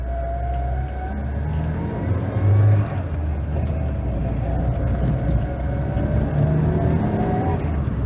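A 1979 Mitsubishi Colt 1400 GLX engine heard from inside the car while driving, a steady low drone with rising and falling tonal whine and road rumble throughout.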